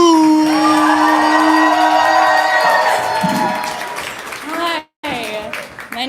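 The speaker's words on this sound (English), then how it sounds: "We're clapping. We're building energy. Make all the noise for S-E Loom." A live crowd at a spoken-word poetry event claps and cheers loudly, with whoops and shouts over sustained applause. It drops briefly to a near-silent break, then picks back up.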